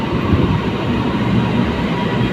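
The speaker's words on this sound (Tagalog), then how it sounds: "Ayan na ang train." An LRT train arriving at Masjid Jamek station in Kuala Lumpur, a loud, close, steady rumble of wheels and carriages rolling in.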